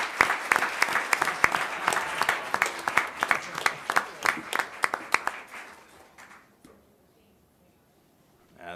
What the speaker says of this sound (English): Let's give Janelle a round of applause